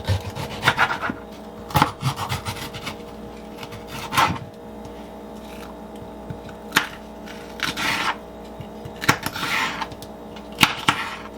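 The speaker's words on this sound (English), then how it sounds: "we're going to grab our red sweet pepper, and we're going to cut it into strips as well." A knife slicing a red sweet pepper into strips on a cutting board: irregular, close knocks and short crisp cuts with gaps between, fairly loud against a quiet background.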